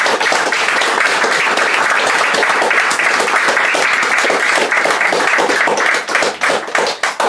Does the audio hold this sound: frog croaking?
no